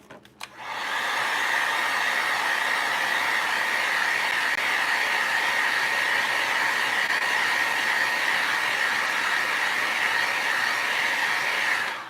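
A hair dryer blows steadily on Pentart deep cracking paste, a loud continuous whooshing hiss that starts abruptly and holds for about twelve seconds with no talking.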